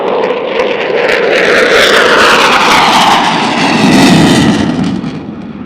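JF-17 or F-16 fighter jet flying a max rate turn at a parade flypast, a loud roaring jet engine sweeping past with a falling pitch, sustained and powerful before fading slightly at the end.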